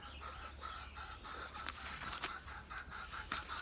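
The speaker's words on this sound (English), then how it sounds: "And there's another chicken." Chicken clucking in a faint, steady run of short calls behind a low background hum.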